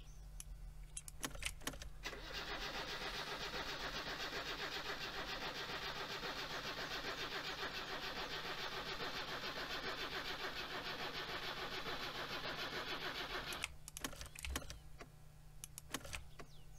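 A car engine in the game My Summer Car is cranked by the starter for about eleven seconds without catching, a steady loud whirring churn, with key rattles and clicks before and after.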